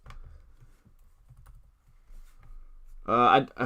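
Soft, quick clicks of typing on a computer keyboard patter irregularly at low volume, then a voice speaks briefly at the end.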